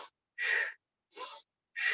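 Forceful rhythmic yoga breathing during a morning practice, three sharp bursts of exhaled breath spaced evenly with short silences between, close to the listener.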